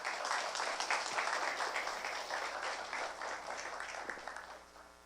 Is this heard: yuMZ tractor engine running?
no